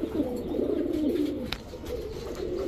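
Pigeons in a loft of racer, Budapest and Damascene breeds cooing, low rolling coos repeating close by over a steady background, with one brief sharp click and no talking.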